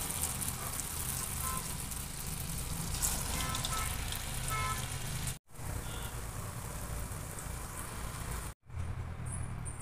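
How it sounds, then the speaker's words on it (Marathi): Gulgule fritters of wheat flour and jaggery fry in hot oil, a dense continuous bubbling sizzle with crackle, interrupted by two brief cuts before resuming. "आता हे बाकीचे राहिलेले असे तळून घेते मी"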